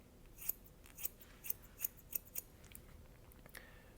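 Barber's scissors snipping hair using the scissor-over-comb technique, six crisp, evenly spaced close-up snips, then a faint final snip against a quiet background.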